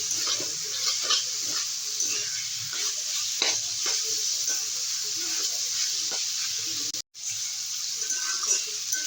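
Chowmein sauce with vinegar cooks down in a pan, an unbroken close sizzle layered with frequent spatula scrapes and clicks and one short break in the sound. Nobody talks.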